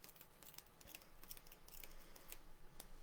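Scissors snip through a length of thread, giving a few faint, crisp cuts at irregular intervals against a quiet background, with no talking.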